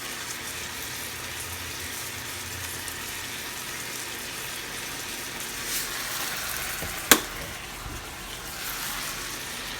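Pork stir fry frying in a pan, giving off a steady, moderately loud sizzle throughout, with one brief sharp clink or scrape of a utensil near the end.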